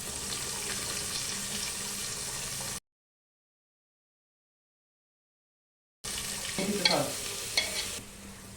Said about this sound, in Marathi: कांदा टाकून परतून घ्यायचा आहे थोडासा.